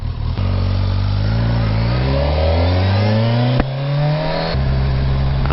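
A Kawasaki Versys 1000 SE motorcycle engine accelerating under load, pitch climbing steadily through a gear, a brief drop at a shift, then pulling again. Loud and continuous with heavy wind rush, no talk.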